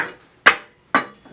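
Wrench clicking against the locking nut on an aluminium Micro scooter headset, two sharp metallic clinks about half a second apart followed by a faint tap, close and clear with no talk.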